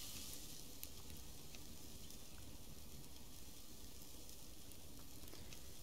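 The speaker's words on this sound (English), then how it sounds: "Could cook that steak." Steak sizzling as it cooks over a fire in the survival game Subsistence, a faint, steady hiss and crackle running continuously with no talk.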